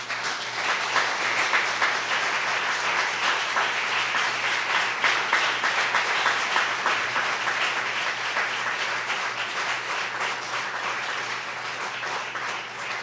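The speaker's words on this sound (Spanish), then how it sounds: "celébralo con un fuerte aplauso" A church congregation applauding loudly and continuously, a dense wash of many hands clapping that holds steady for the whole stretch.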